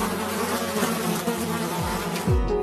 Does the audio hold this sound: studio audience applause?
no